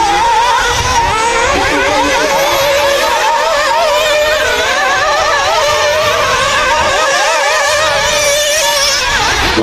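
Race car engines revving hard during an elite-class semi-final race in 2023, a loud, continuous high-pitched roar with wavering pitch from several engines at close range, with no talk over it.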